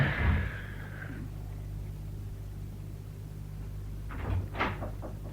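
A door opens and later shuts as a visitor leaves a house in a radio drama: a creak near the start, a quiet stretch, then a short clatter of the latch and closing near the end.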